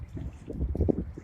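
Strong gusting wind buffeting the microphone on a stormy seashore, a steady low roar with rumbling surges throughout.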